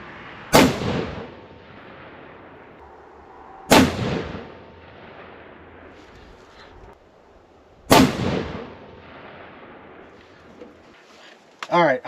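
Three loud, sharp rifle shots fired with Nosler 160 grain AccuBond bullets, spaced a few seconds apart outdoors, each cracking and then rolling away in a long echoing tail.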